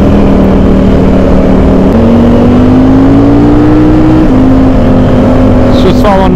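A Ducati motorcycle cruising along the California coast on the Pacific Coast Highway, a loud, steady engine drone with wind rush and gear shifts changing the pitch, heard continuously from the rider's position.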